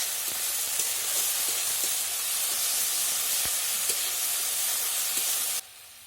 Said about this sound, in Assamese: এইখিনি সিজালৈকে এনেকৈ ভাজি থাকিব লাগিব।